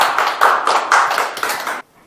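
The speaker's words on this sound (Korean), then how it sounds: "박수 한번 부탁드립니다" A small seminar audience claps for a newly introduced presenter, a short close burst of overlapping hand claps that stops abruptly after under two seconds, leaving near silence.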